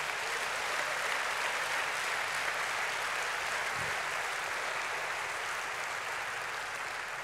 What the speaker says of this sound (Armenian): Ամեն եկեք բարձր ծափարենք Տիրոջը։